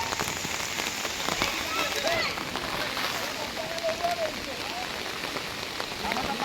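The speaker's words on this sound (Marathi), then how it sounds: "मित्रांनो एकदम जोरात पाऊस आलाय" Heavy monsoon rain pouring in a Konkan village, a loud, constant dense hiss of drops on surfaces, with a voice talking faintly underneath.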